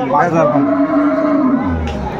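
A cow moos at the Aftabganj cattle market in Dinajpur, where cows with calves are sold: one long, loud, steady low call held for about two seconds close by, with faint market noise behind it.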